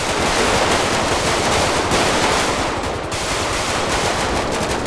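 Rapid automatic gunfire from a firefight in the video game GTA 5 roleplay pours out loud and continuous. The bursts are dense and sustained, with only a short dip near the end. No voices are heard.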